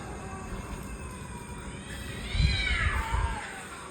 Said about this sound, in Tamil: பூனைகள் செஞ்சுக்கிட்டு இருக்குங்க.